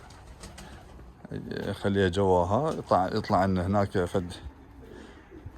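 Red Iraqi pigeons kept in Germany coo close by in a run of deep, throaty, rolling calls lasting a few seconds, while someone talks over them.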